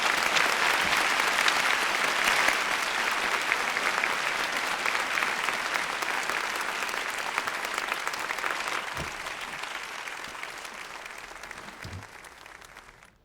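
A packed concert hall audience applauds before a piano recital in a horror film, a thick, sustained roar of clapping that runs loud and unbroken, easing slightly and tapering off at the very end.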